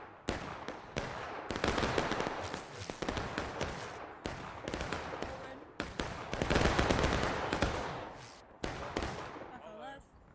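Massed musket volleys and rolling rifle fire in a Civil War battle video game, with repeated bursts of crackling gunfire in waves and brief pauses between them, loud and close.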